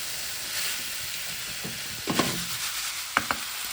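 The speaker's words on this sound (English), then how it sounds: "So now mix them all together and turn off the cooker." Minced meat and potato samosa filling sizzles softly in a pan as a spoon stirs and scrapes it, with a few light knocks of the utensil near the end.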